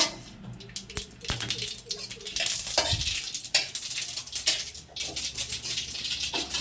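Mustard seeds crackle and sizzle in hot oil with fried dried chillies, with a spoon scraping and stirring a pan and occasional clinks close by.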